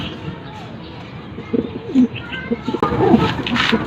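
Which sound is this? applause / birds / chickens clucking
birds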